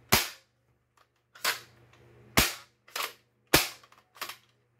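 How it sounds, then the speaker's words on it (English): A modded Zuru X-Shot Reflex 6 dart blaster is dry fired six times at uneven intervals, each a sharp, loud snapping crack that decays quickly, with faint clicks between shots and no speech. "I'm gonna dry fire it."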